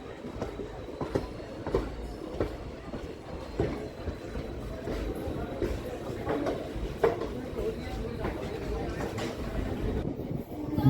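Puri Jagannath Express on the Shalimar–Puri run rattles along at night near Santragachi, with rhythmic clickety-clack of wagons and wheels rumbling steadily close by, faint voices mixed in.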